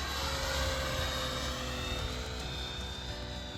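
A radio-controlled model helicopter flies close by with a steady, loud rotor and motor drone that holds constant for the whole stretch, with no voices over it.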